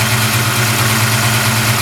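A 347 stroker engine built with a Coast High Performance Street Fighter kit, with forged pistons and a cast crankshaft, idles loud and close in a steady, low, rumbling drone.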